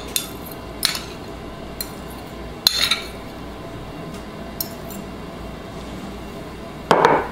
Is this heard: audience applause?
no